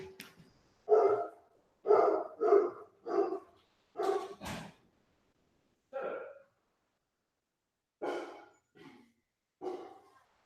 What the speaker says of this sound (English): Damn, my dog.